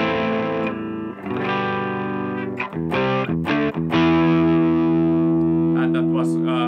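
Ibanez MC400DS electric bass played through the bridge pickup with no preamp, a sustained run of sliding notes and held low tones, loud and steady with a few sharp plucked attacks near the middle.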